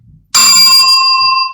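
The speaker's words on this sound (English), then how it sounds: "Desk bell." Single bright desk bell ding struck once up close, a sharp metallic strike followed by a clear ringing tone that sustains and slowly fades.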